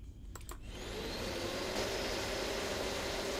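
A ghost vacuum in a video game starts with a short clatter, then settles into a steady, loud whirring roar that holds evenly to the end.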